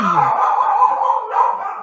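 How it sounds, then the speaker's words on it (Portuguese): Dogs barking: a close, loud burst of yelping, howl-like barks that run continuously for a couple of seconds, with no talk alongside. "os cachorros até latiram"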